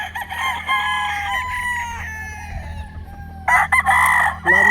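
A Boston Millionaire gamefowl rooster crows loudly nearby, a drawn-out call with clucks between, as other roosters crow in the background.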